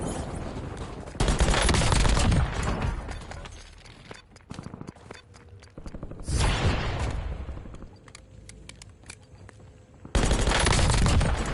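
Pistol fire in a Call of Duty game comes in dense rapid bursts, with three loud stretches of shooting and quieter stretches of scattered single shots and clicks in between.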